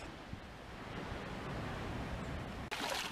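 Ocean waves washing onto Jabaquara Beach on Ilhabela near a river mouth on an overcast day, a faint, steady surf wash with some wind buffeting and a sharp gust of noise near the end.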